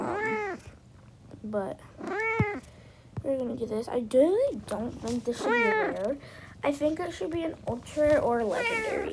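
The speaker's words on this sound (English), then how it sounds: "It is my cat meowing because I'm sitting with her." A pet domestic cat meows repeatedly close to the microphone while someone talks over the sounds, the meows rising and falling in a drawn-out, whiny pattern through most of the stretch.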